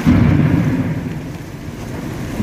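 Thunder rumbles through a rainstorm in Sandy Bay, Saskatchewan, a steady low roar with a loud onset that holds for the full stretch over hissing rain, with no one talking.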